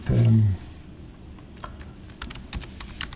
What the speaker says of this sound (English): then we type